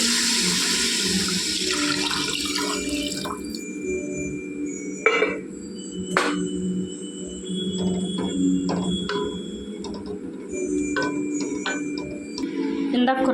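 Water is poured into a cooking pot for biryani, a steady rushing splash running for several seconds with brief clinks of utensils and a voice talking intermittently over it.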